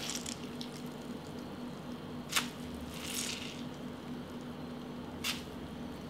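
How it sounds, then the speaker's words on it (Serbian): Grated potato and carrot are squeezed by hand to press out the excess water. A few soft, wet squishes and drips come through separately over a faint, steady background. "Sad ovako izrendanu krompir šargarepu procedit ću od suvišne vode."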